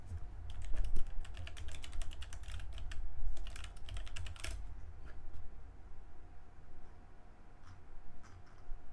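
Notes are typed on a computer keyboard in quick, close clusters of light key clicks, busiest at the start, then slowing to scattered taps over a low room hum.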